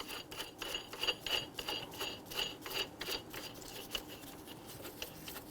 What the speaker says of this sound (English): Remove the pry bar and your lug nuts.